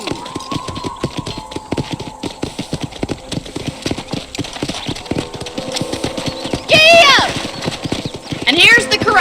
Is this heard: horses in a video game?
yes